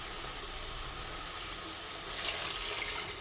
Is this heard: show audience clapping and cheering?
no